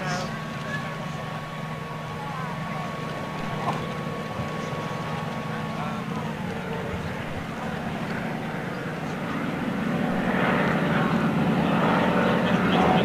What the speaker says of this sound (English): So this will not be the landing, this will be the last fly past.